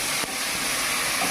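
Onions with ginger-garlic paste sautéing in a pan for bagara rice, a dense, continuous close sizzle and hiss with no pauses.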